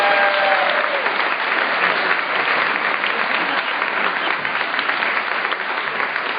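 Steady, full applause from an audience at an awards gathering, many hands clapping continuously at close range without a break.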